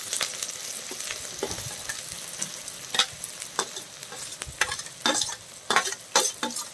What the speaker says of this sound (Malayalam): ഓയിൽ ചൂടായിട്ടുണ്ട്. ഇനി നമുക്ക് കൊത്തി എരിഞ്ഞ് വെച്ച സവാള അതിലേക്ക് ഇട്ട് കൊടുക്കാം.